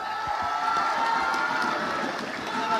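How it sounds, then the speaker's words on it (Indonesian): A crowd applauds and cheers in a large hall at the final of a national Fahmil Qur'an competition. The sound is a steady, even wash of clapping and crowd noise. "sekali lagi tepuk tangan yang paling meriah"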